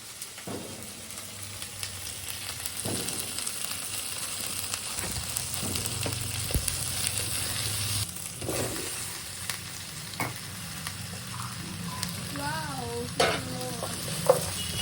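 Pav bhaji vegetables fry in a pan with bhaji masala, a constant close sizzle broken by repeated scraping strokes of a spoon stirring the mix.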